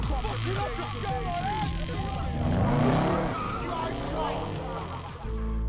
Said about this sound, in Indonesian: Eggsy dan teman-temannya membawa mobil itu sambil berputar-putar dan melesat kabur.